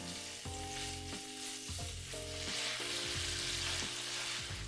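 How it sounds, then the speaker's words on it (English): Diced guanciale frying in a pan, a steady loud sizzle with bursts of crackling spatter, alone with no talk, over a low sustained musical tone. "You have to man your guanciale from afar because it spatters all over you"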